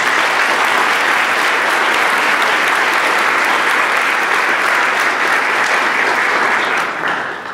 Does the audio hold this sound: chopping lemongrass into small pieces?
no